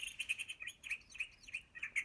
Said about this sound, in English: Then the birds chirped,